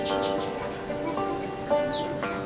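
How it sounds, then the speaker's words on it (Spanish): A house wren (cucarachero) calls with quick, high chirps and a descending whistled note, fairly faint against a soft background. "Y otro pajarito que es muy ocioso es el cucarachero."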